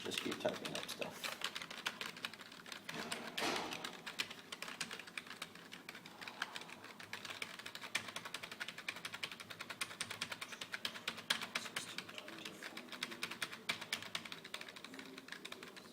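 Rapid, continuous typing on a computer keyboard with fast irregular key clicks, fairly quiet and close, running steadily throughout with no talking.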